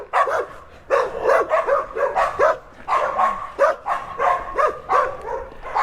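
A steady run of excited barking from a few dogs, overlapping yips and barks repeating in rapid rhythm, close by and loud, in a neighborhood in Sutiava, León, Nicaragua.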